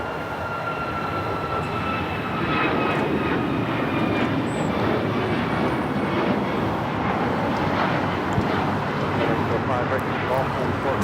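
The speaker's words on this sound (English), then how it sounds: "United Airlines 1464 taking off to Denver, Colorado on the MAX 9" A United Airlines Boeing 737 MAX 9 takes off from Los Angeles International Airport, its broad engine roar building and sustained at a distance, with people talking over it.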